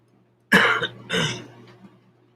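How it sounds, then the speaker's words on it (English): Two harsh coughs from wildfire smoke in the California desert, close to the microphone, a sharp first burst followed by a second, longer one that trails off, over a faint low hum. "Yeah, I'm coughing a lot."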